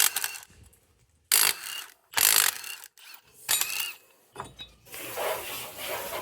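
A wheel spacer comes off a four wheeler with loud bursts of ratcheting from a hand tool, separated by short pauses. Metallic clicks and clanks from the tool and the parts are heard between the bursts.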